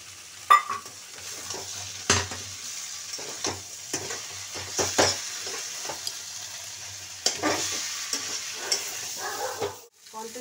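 Soybeans and eggs going into a frying pan, an intermittent crackling sizzle broken by scraping stirs and clatters of the spatula, close by, with a dog barking faintly at one point.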